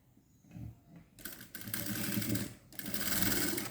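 A sewing machine stitches a folded hem on an A-line kurti in loud, close bursts of rapid mechanical whirring, with short pauses between runs.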